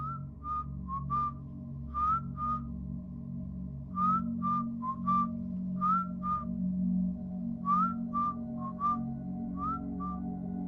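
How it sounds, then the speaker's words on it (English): Repeated short whistled notes in little bursts, some sliding upward, over a steady low hum; the phrases come and go across the stretch. "At exactly 3:03, we heard the whistling."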